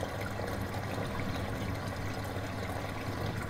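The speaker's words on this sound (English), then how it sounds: "This is connected to a fucking water hose." Water from a hose flushes through a tank in a video game, a steady rushing, gurgling wash that holds at an even level throughout with no talk over it.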